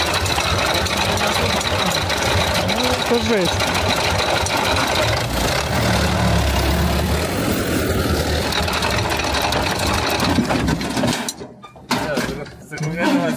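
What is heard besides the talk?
homemade tractor engine running on oil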